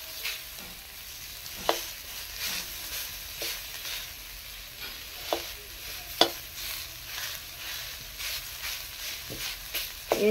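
Boiled potatoes are mashed and pressed with a utensil in a bowl or pan, giving soft squelching presses punctuated by sharp clicks and taps against the vessel, spaced irregularly over a faint hiss.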